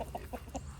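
Guinea fowl on a farm give a few rhythmic, clucking calls in a quick repeating pattern, fairly close over a low background rumble.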